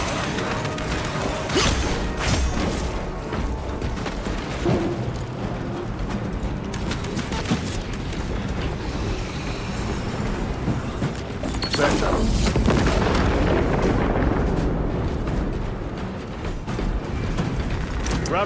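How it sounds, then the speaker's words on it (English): A melter bomb activating in Warhammer 40,000: Space Marine 2, heard as dense mechanical clanks, ratcheting and booming impacts with a rising surge near the end, loud and continuous amid game sound. "Melter bomb active."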